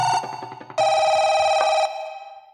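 A mobile phone rings for a missed call, a bright electronic ringtone that chimes in quick bursts, swells louder in the middle and then fades away, with no talking over it.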